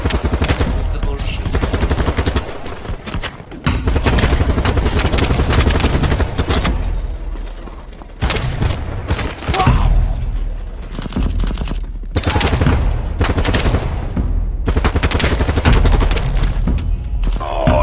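Rapid automatic AK-74 assault rifle fire in the Battle Bit shooter game, loud continuous bursts with brief pauses between strings of shots.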